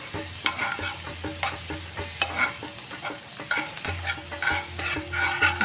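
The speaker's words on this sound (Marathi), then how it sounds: "मिरची परतून झाली माझी" Green chillies sauté in a pan for a fasting-style okra dish, with a close, steady sizzle and rhythmic scraping strokes of a spatula. No voices are heard.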